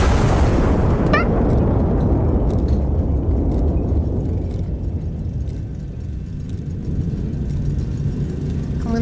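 A heavy turret fires in the Iron Nest video game, a loud explosive boom at the start that fades into a long, low rumbling decay with faint rattling.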